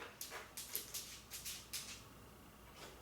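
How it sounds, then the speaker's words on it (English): A small, chubby pet dog eating, giving a quick series of crisp crunching or lapping bursts for about two seconds at close range, then settling into near silence. "Waiting for Fatty to finish eating."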